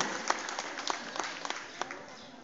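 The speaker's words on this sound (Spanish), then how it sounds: "Fuerte los aplausos para la profesora Lorena." A modest crowd at a primary school graduation ceremony claps for a kindergarten teacher, with scattered distinct hand claps over a soft continuous patter, fairly light and thin overall.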